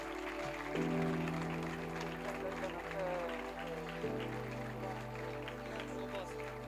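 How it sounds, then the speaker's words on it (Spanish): A church congregation applauds to welcome a preacher, clapping under a sustained organ or keyboard chord that shifts pitch, with a voice present in the mix. "lo recibimos con un gran aplauso"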